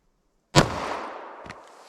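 A single sharp 9mm gunshot fires a Remington Golden Saber round into layered denim, clear ballistic gel and MDF, cracking loudly after silence with a decaying echo and a fainter impact a moment later.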